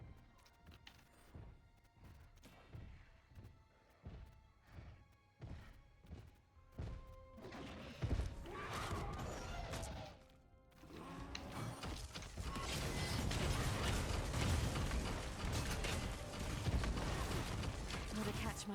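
Wolcen game turrets firing in an endgame build test, heard as a dense run of mechanical clanks, creaks and thuds that start sparse and build into a loud, continuous clatter of hits, with some talk mixed in.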